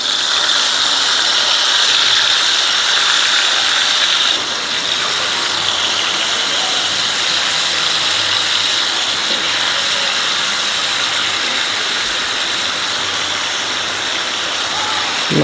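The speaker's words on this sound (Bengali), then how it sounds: "ফের এইখানে তেল দিয়ে আমি মাছটা ভেজে নেব।" Bhetki fish fries in plenty of hot oil, giving a loud, steady sizzle with a hissing crackle that continues through the whole stretch, close and unbroken.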